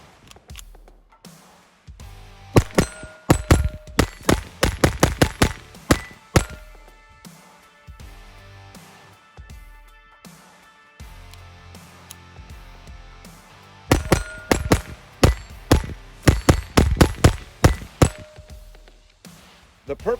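A Taurus TX22 Compact pistol at a range firing 40 grain standard velocity rounds: two rapid strings of sharp, loud shots with brief pauses between bursts, close up.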